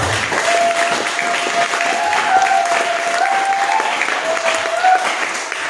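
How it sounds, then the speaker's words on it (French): Sustained clapping from an audience fills the whole stretch, dense and steady, with a faint tonal hum running underneath. "Applaudis très fort."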